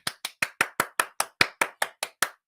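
Children clap their hands in a steady run of about twelve crisp claps, evenly spaced and fairly close, with nothing else audible around them.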